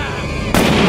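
A gunshot from the 1990 film Back to the Future Part III cracks into a loud, sustained burst halfway through, following a quieter stretch of soundtrack.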